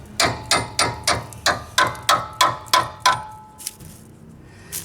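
Repeated hammer blows beat on the frame of a Jeep Wrangler YJ checking for rust, about ten sharp ringing metallic strikes in a steady rhythm, loud and close, then tapering to a couple of lighter taps.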